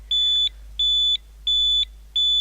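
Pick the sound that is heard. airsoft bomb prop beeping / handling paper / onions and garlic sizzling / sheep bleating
airsoft bomb prop beeping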